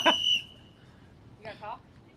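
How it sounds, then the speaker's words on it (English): A sharp, piercing whistle blows briefly in the background at the start, then fades, followed by a person speaking. "We have a whistle in the background now."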